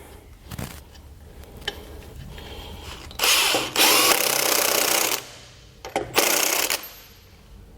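Power tool tightening lug nuts on a trailer wheel during axle installation on a 1917 Ford Model T, heard as two loud whirring bursts of a few seconds each, separated by quieter clicks and handling noise.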